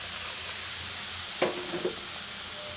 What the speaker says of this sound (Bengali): এখন আমি এই পর্যায়ে দিয়ে দিব মিল্কভিটা দুধ।